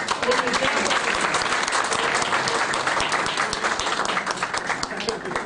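An audience bursts into sustained applause at the opening of the Beylikdüzü Fenerbahçe supporters' association, loud continuous clapping with voices mixed in throughout.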